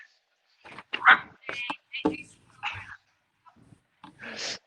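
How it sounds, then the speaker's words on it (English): Neighborhood dogs in Amsterdam bark in short, separate bursts with gaps between them, heard close alongside a person talking. "neighborhood dogs"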